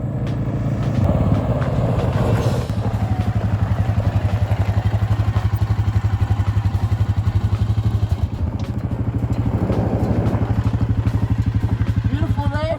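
A quad ATV ridden along the Iron Horse Trail in Alberta, its engine thrumming steadily and loudly close by with clattering and bumps, while riders talk over the noise.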